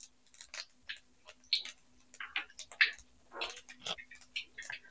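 Mustard seeds and fennel seeds crackle and pop in hot oil for a kovakkai fry, a steady run of sharp close spattering ticks with no talk.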